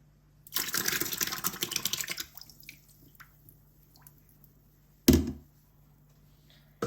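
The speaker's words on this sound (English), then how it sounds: "Once you have your tub of water ready, add the pulp in." A burst of splashing as paper pulp is poured into a tub of water, lasting about two seconds, then quiet dripping and a sharp splash near the end.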